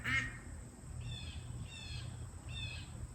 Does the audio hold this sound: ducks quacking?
yes